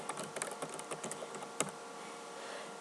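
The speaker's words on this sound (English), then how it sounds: "I'll just type those in there." Soft, close typing on a computer keyboard at a shop counter, with a quick burst of light key clicks and one sharper tap before it settles into quiet.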